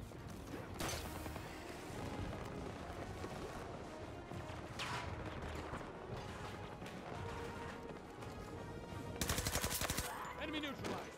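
AI soldiers firing in a Battlefield 2042 Conquest match: rapid automatic gunfire crackles steadily throughout amid battle noise, with a louder burst near the end and a voice speaking over part of it.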